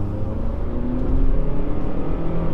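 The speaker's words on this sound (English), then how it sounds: "accelerate a little bit on the harder side" Engine of a 2007-2012 third-generation Honda CR-V revving as the SUV accelerates in traffic toward highway speed, a steady, fairly loud low drone that swells slightly mid-way, heard from inside the cabin with no talking.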